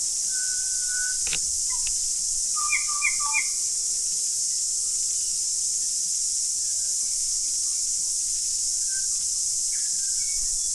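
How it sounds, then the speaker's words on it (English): A pair of North Island kōkako sings from the trees with a few clear, organ-like notes rising over a constant high insect drone, faint and distant. "we noticed 2 North Island kōkako singing up in the trees"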